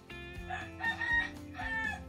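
A rooster crows twice in succession, loud and fairly close, with a strained rising call each time.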